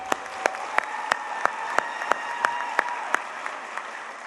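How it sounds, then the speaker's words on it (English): An audience at a Teacher of the Year celebration applauds an honoree, with sharp, evenly spaced claps standing out in a steady rhythm over a soft, continuous patter of clapping, moderately loud and without speech. "Let's give one more round of applause to Jessica Allen."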